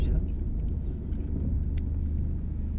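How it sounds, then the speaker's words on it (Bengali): A 2006 Toyota Rush's engine runs nearby with a steady, low rumble that holds even and unbroken throughout. "গাড়িটি আমি আপনাদের এখন চালাই দেখাবো ইঞ্জিন গাড়ির কী অবস্থা"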